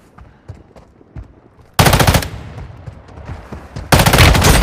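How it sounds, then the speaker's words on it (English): Mortar strike explosions in the Warzone Mobile video game: two loud, sudden blasts, the second near the end, each followed by a rolling rumble and debris, with quieter distant gunfire before. "Mortar strike inbound now."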